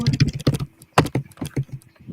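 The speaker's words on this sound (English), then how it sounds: "It sounded like somebody was literally banging away on the keys." Keys clatter on a computer keyboard in quick, uneven bursts of sharp clicks, close and fairly loud, with short pauses between the flurries.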